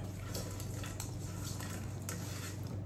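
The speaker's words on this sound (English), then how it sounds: "let's add in some croutons, and then we'll put some more on the top of our salad" Croutons are tossed into a kale Caesar salad with clinking utensils and soft rustling, a busy close scraping and clattering of bowl and cutlery that runs steadily throughout.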